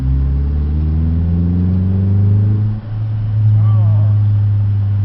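A 2012 Ford Focus SE with a manual gearbox revs hard close by, its loud engine note climbing and then holding high before easing slightly and surging again.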